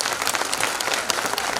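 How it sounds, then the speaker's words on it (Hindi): An audience at a school Grandparents Day event claps for the children in a loud, dense burst of applause that carries on without a break. "big round of applause for this fantastic effort"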